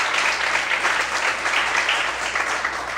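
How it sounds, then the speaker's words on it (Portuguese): A church congregation applauds during a sermon, a sustained, dense wash of many hands clapping that holds steady for several seconds. "Quantos podem aplaudir e glorificar a Deus?"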